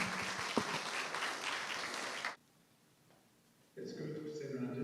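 A room audience gives a loud round of applause to welcome a professor joining a hospitality and tourism panel discussion by Zoom, the clapping breaking off abruptly partway through before a voice begins speaking.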